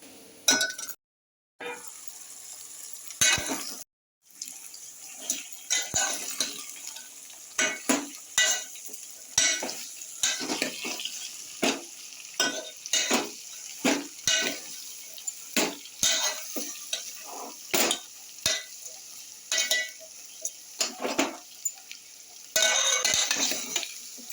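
Bitter gourd pieces frying in a pan, stirred with a utensil that clinks and scrapes against the metal again and again under a steady sizzle, close up with no talking.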